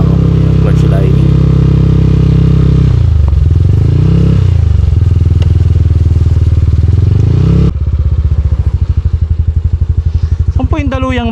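A motorcycle engine rumbles loudly with clattering and thumping over a rough road, the tone shifting as it rides, then idling unevenly near the end; its clutch lining is overheating.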